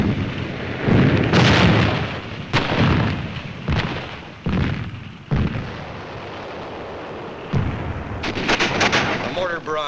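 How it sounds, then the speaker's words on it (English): Mortar barrage in World War II battle footage from Iwo Jima, a string of heavy booming explosions at irregular intervals, some close and loud, others duller, with rumbling debris between blasts. "A mortar barrage searches out hidden machine gun nests."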